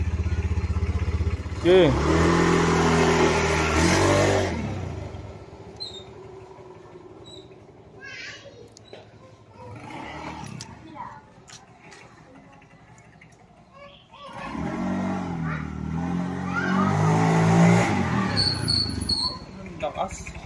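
An upgraded Honda Beat scooter revs on a test drive in two loud, rising bursts several seconds apart, with people talking nearby in between.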